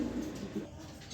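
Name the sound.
Giribaz pigeon cooing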